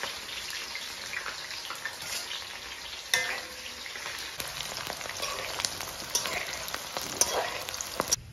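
Onions frying in hot oil for a river snail curry, giving a steady crackling sizzle with brisk popping spikes and occasional stirring clatter, close and moderately quiet with no voices.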